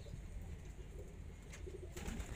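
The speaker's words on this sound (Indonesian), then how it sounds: "burungnya pekur ya" A zebra dove coos softly, a few faint, low, rounded calls set against a steady background hum.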